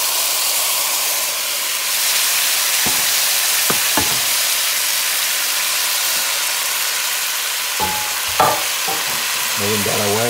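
Meat being stirred with its juices and seasoning base in a pot for Sancocho de Res, a steady sizzle and steamy hiss running throughout with a few scraping knocks of the spoon near the end.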